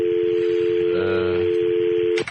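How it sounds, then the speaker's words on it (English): A mobile phone keypad sounds a steady series of dialing tones, one long continuous tone holding throughout with a second tone layered in briefly midway, loud and close with no talk over it. "I have to dial a 1 with this or not? It shouldn't be it's a mobile phone."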